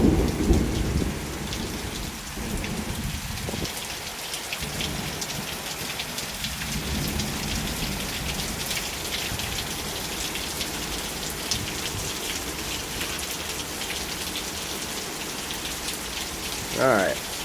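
A heavy rainstorm pours down steadily on surfaces outdoors, with deep thunder rumbling through the downpour and a sharper crack near the end.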